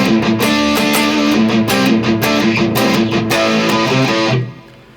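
Distorted electric guitar runs the verse riff at full speed, a dense, driving stream of picked notes, loud and close with no voices, ending in a final ringing note that fades.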